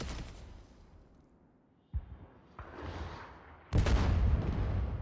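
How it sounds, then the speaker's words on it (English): Booming gunfire and blasts from the film All Quiet on the Western Front erupt in bursts across a battlefield, with sharp reports and a loud, sustained roar at the end. "Just hear gunfire"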